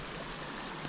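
A creek flows in a continuous, gentle wash of water that stays steady and fairly quiet throughout, with no voices.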